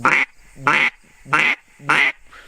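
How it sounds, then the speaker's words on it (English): Four evenly spaced nasal greeting quacks from a Molt Gear Ol Man River duck call, each short and bright with brief silences between, close and fairly loud. "just a little greeting quack"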